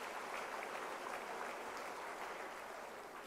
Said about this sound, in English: I think the researchers require a round of applause